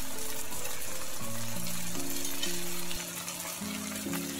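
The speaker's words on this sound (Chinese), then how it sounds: "翻炒至酱汁粘稠，倒入花生" Kung Pao chicken stir-fries in its thickening sauce in a wok, giving a steady, close frying sizzle with gentle bubbling and stirring, then easing slightly toward the end while soft background music plays.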